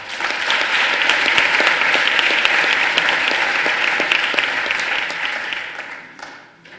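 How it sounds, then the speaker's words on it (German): A crowd at a German panel event bursts into loud, sustained clapping that holds strong for several seconds before tapering off and fading out. "Applaus"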